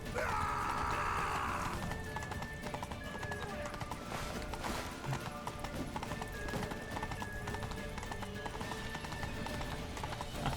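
Horse hooves clip-clop rapidly in a steady galloping rhythm in The Witcher 3: Wild Hunt, fairly faint beneath background music and game sounds.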